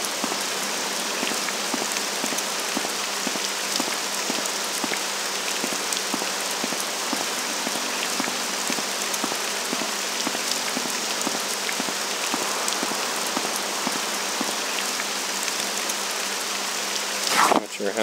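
Rain falling in Morrowind, a dense, even hiss of drops pattering steadily for the whole stretch at constant loudness, with a faint click near the end.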